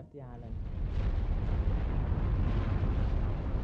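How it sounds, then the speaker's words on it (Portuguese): A volcano erupting on an island, a sustained loud, dense roar of rumbling and crackling bursts that holds steady throughout after a brief quieter start. "o vulcão está em erupção"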